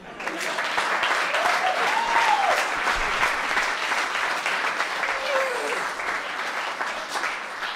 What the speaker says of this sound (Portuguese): Mais aplausos para o Orlando Capata, por favor